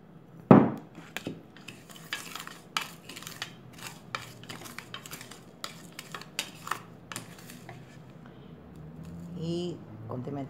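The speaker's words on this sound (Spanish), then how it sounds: "para condimentar nuestro lomo, vamos a revolver nuestras especias" Spices and salt stirred together in a small dish to season a pork loin, heard as a close, quick run of light utensil clinks and scrapes, with a faint low murmur near the end.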